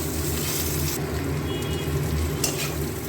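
An onion fries in a pan, producing a dense, steady crackling sizzle close up, with light stirring bursts and no talking.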